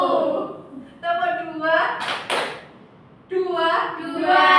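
A pair of crisp hand claps from a classroom counting game in an Indonesian science lesson, landing between stretches of a teacher talking.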